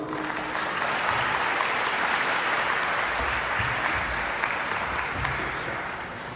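A crowd of people applauds steadily to welcome a speaker at an evening talk for a business branch, dense clapping that keeps going at full strength throughout without any break.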